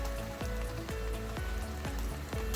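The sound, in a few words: kebab meat sizzling while cooking in a pan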